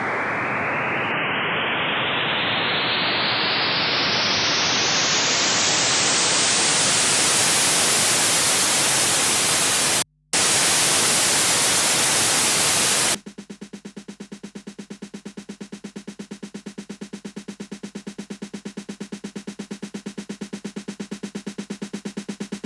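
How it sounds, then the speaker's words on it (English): Noise effects for transitions in a melodic techno track: a loud white-noise riser sweeps upward, cuts out for a moment and resumes, then gives way to steady rhythmic pulsing noise with a low hum. "I'll also add some noise FX and a snare buildup to enhance the transitions."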